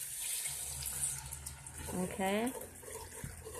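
Water poured into a pan of browned hamburger, a running splashing stream that rises and fades over a few seconds, with a person speaking briefly over it.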